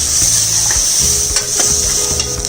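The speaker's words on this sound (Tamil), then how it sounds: "காலிஃப்ளவர் எல்லாத்தையும் போட்டு வதங்குறோம், கிளறி விடும்" Cauliflower with beans and carrots is sautéed and stirred in a hot pan, giving a loud continuous sizzle under rhythmic spoon scrapes and knocks, close up and with no talking.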